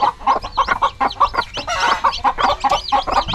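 Chickens cluck close by in quick, repeated bursts, a loud, choppy run of short calls that keeps going with barely a pause.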